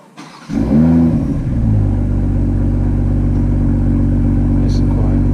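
A 2020 BMW M340i fitted with a Racechip tune starts up warm after a short pause: the engine catches loud and close, flares in a brief rev, then drops into a steady, deep idle that continues to the end.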